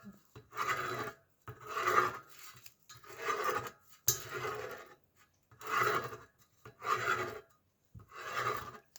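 Pen writing a name on paper repeatedly, close scratchy strokes in six or seven distinct bursts separated by short pauses, with no talking.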